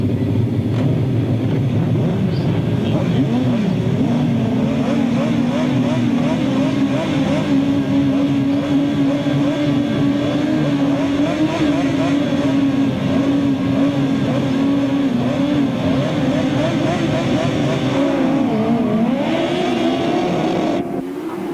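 Several 1000cc right-hand sidecar racing motorcycles roar past on a race circuit, a loud, continuous high-revving engine drone with rising and falling pitch that fills the whole stretch, with no talk over it.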